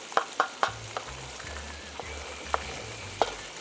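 Crab masala sautéed in a pan, a faint steady sizzle punctuated by a handful of crisp spatula taps and scrapes, with a low hum underneath and nobody speaking.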